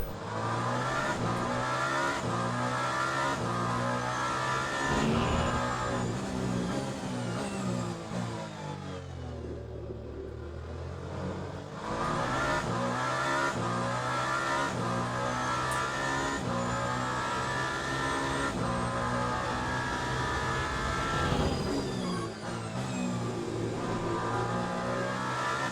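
A race car engine in the Le Mans Ultimate racing game roars continuously and close, revving up and down through gear changes with a brief dip under braking.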